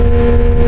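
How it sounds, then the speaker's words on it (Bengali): A speedboat engine drones steadily on the Jamuna river, loud and close, with strong wind buffeting the microphone throughout. "কিছুক্ষণের মধ্যে আমাদের স্পিড বোট ছেড়ে দিবে"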